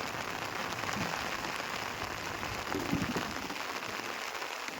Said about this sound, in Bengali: চলছে প্রচণ্ড বৃষ্টি উত্তাল এই সমুদ্র